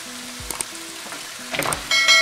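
Frozen okra tipped into a hot pan of spices for masala bhindi, bringing a sudden burst of crackling sizzle with a few clatters of stirring, building louder toward the end.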